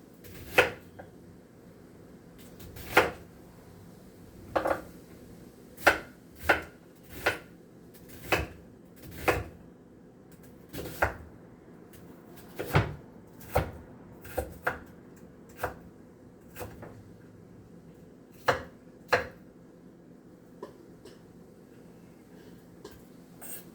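Knife slicing garlic on a cutting board: sharp, separate cuts at an uneven pace, some in quick pairs and others spaced apart. The cuts sound close and crisp over a quiet room hum, with no speech.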